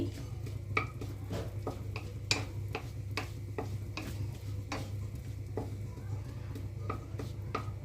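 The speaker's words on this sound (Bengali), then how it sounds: "দিয়ে ভালোভাবে নাড়াচাড়া করে নিচ্ছি।" Whole cumin, a bay leaf and a dried red chilli are stirred in a pan for a Bengali-style broccoli dish, giving soft repeated scraping clicks of the spoon over a low frying sizzle and a steady hum, with no speech.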